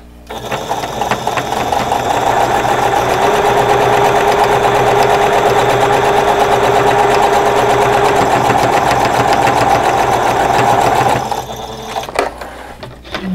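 A sewing machine runs steadily for about ten seconds, stitching a fabric face mask from edge to edge. The hum is loud and close, then stops, leaving faint handling noise and no voices.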